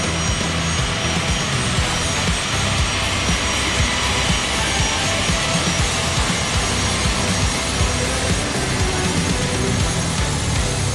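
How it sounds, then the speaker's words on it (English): Passenger jet coming in at Dallas Love Field on a rainy morning, a loud, steady engine roar that fills the whole stretch with no break, close and broad. "We have an incoming flight"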